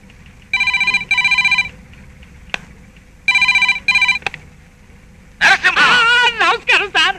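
A telephone rings in two clear double-burst electronic trills with a pause between them, followed by a voice speaking close by.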